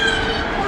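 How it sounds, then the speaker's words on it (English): A blaring, distorted horn sounds from a Southeastern electric train at a maintenance depot open day, one sustained loud harsh tone held steadily for its whole brief span. "That is one distorted horn."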